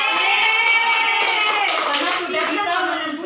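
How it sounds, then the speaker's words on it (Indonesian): A classroom of students clapping for a classmate, a dense run of hand claps with children's voices chattering over it throughout, fairly loud and close. "Beri tepuk tangan buat Atika."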